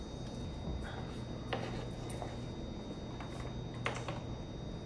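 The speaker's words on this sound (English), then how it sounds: "Just continually dicing the onions here." A knife taps repeatedly on a cutting board as onions are diced into a small dice for empanadas salteñas, a quiet, irregular run of light chopping clicks with a few louder strikes and no talk.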